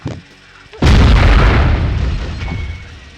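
A heavy explosion booms and rumbles out loudly in the Twisted Metal: Small Brawl video game as a boss vehicle fires, decaying over a couple of seconds after a brief quieter lead-in.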